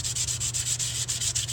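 Sandpaper worked against a metal jewelry piece held in place on a sticky mount, a loud, close, rhythmic rasp in quick even strokes with nothing else heard.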